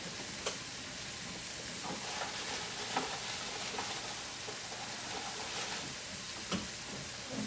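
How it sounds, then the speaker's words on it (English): Mushrooms and onions frying in a pan on a stovetop, a steady broadband sizzle with occasional light clicks and stirring taps, close and moderately loud, no voices. "we're going to turn the stove back on here. And we're going to be throwing the mushrooms, the onions"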